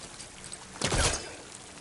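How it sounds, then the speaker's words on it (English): Water pours from a vent in Horizon Forbidden West as a short, soft rushing burst that swells and fades within about a second. "Water's coming from that vent."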